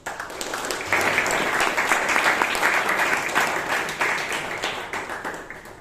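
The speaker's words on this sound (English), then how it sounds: "he also deserves a big round of applause" An audience at a Bangalore Toastmasters meeting breaks into a sustained round of applause, dense steady clapping that fills the room for several seconds before tapering off.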